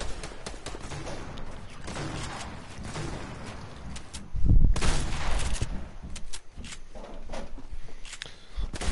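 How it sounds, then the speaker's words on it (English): A grenade launcher fires in a multiplayer shooter video game, with rapid gunfire crackle throughout, a heavier booming burst partway through, and scattered shots and clatter afterward, all under some talk from players. "Grenade launch."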